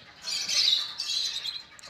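Aseel breed roosters give a shrill, raspy squawk, a near and fairly loud cry lasting over a second before trailing off, with no talking.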